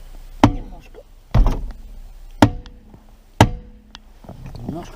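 A car wheel is hammered onto a tight-fitting hub on a jacked-up car with a broken ball joint: four sharp, heavy blows land roughly a second apart, with people talking quietly between them.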